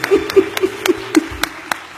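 A small audience claps for a singer's performance on a Malayalam stage show, a handful of sparse, separate claps over a low sustained hum.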